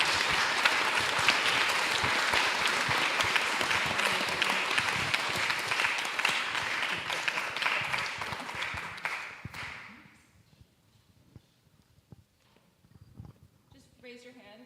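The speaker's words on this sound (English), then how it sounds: "let's give our panelists a round of applause" Audience applauding panelists at the close of an academic panel discussion on Harry Frankfurt's On Bullshit, a dense, fairly loud burst of clapping for about ten seconds that fades out, followed by quiet room noise and brief talk.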